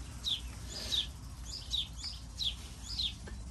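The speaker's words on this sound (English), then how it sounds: "Freaking birds." Small birds chirp outdoors in short, repeated high tweets about every half second, faint and a little distant over low background rumble.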